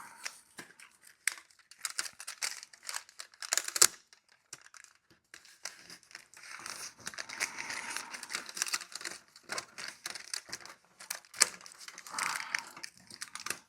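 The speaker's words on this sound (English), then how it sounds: "And this is how you put your duct tape on." Duct tape pulled and pressed onto a dryer vent coupling, giving scattered crinkling, ripping and sticky peeling sounds in short irregular bursts, close and fairly quiet.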